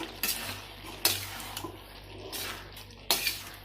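Mushrooms tipped into a capsicum gravy and stirred in a pan, with several sharp scraping clatters of a spoon against the metal and softer wet stirring in between, close and moderately loud.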